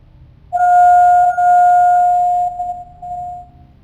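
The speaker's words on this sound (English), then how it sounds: "Doorbell's ringing" A single electronic doorbell tone rings out clearly, a sustained chime that slowly fades over a few seconds against quiet background hum.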